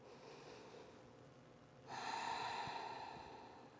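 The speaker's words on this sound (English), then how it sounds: "Take 2 long breaths here." Faint, close breathing during a child's pose stretch over a foam roller: a quiet exhale, then a louder, deeper breath that rushes in and out near the microphone.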